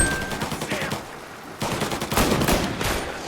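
Rapid bursts of gunfire from the video game Mafia Definitive Edition crackle in repeated volleys, moderately loud and fairly continuous, with a brief lull midway.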